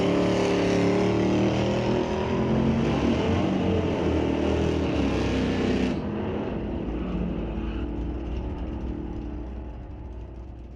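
Drag race cars, a black 1983 G-Body Cutlass and a 1997 F-Body Pontiac, roar loudly at full throttle down the strip, then the sound abruptly drops and fades into a softer distant engine drone.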